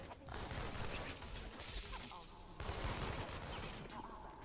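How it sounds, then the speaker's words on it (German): Rapid bursts of gunfire in the video game inFamous: Second Son crackle in the distance beneath game sounds, fairly faint with no clear single shots standing out. "Wo kommen denn die Schüsse her?"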